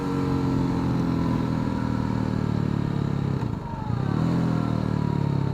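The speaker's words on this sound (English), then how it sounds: "Get some serious engine braking going on there." A Hyosung GD250R 250cc motorcycle engine drones steadily under engine braking, loud and close, with a brief dip before the engine note resumes.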